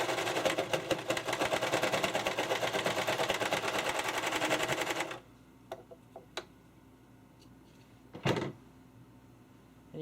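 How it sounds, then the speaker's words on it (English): A serger stitches along fabric edges with a fast, dense, steady whirring hum for about five seconds. It then stops, leaving a few scattered clicks and a dull knock in the quiet. "I'm just going to sew the edges here. I like to use a serger for this"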